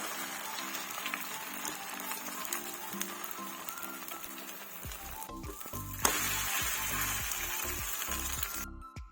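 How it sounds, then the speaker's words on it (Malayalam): An omelette sizzles steadily in a hot pan, a continuous close crackle with a brief clatter partway through. "ചട്ടി നന്നായി ചൂടായിട്ടുണ്ടായിരുന്നു പെട്ടെന്ന് ഓംലെറ്റ് ഉണ്ടാക്കുകയാണ്"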